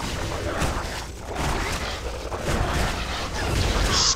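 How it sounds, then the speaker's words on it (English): A gun turret in Torchlight 2 fires repeatedly at a crowd of monsters, producing dense, booming bursts of shots over a noisy fight, with a voice faintly present in the mix. "Got my gun turret out, shooting at them."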